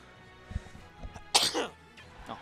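A single close, quiet sneeze bursts out midway through, preceded by faint shuffling and light breaths, with a soft exhale trailing after at a Smash 4 tournament stream.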